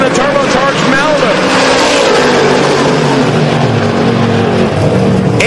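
A nitrous-fed pickup truck and a turbocharged Malibu race down a drag strip, loud engines roaring and rising in pitch as they accelerate. An announcer talks over the noise throughout.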